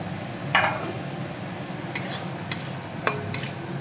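Spices sauté in a pan for hilsa fish curry under a soft, steady sizzle, with a handful of sharp spatula scrapes and taps spaced out across it and no voices.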